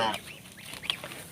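White geese kept on a farm honk faintly, with one or two short nasal calls over a quiet background, briefly and at some distance.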